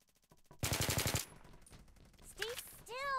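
Rapid automatic gunfire in a game, fired at another player: a close, loud, quick burst of shots lasting under a second, followed by quieter game sounds and a voice.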